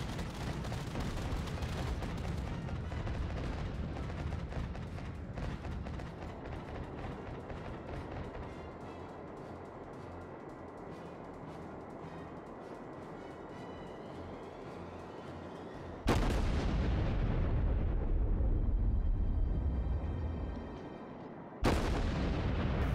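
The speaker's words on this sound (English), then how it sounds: "the New York turns her guns and opens fire repeatedly" The main guns of the US Tier V battleship New York fire in World of Warships, opening with heavy rumbling gunfire that fades over many seconds, then two sudden, loud, deep booms, each trailing off into a long rolling decay.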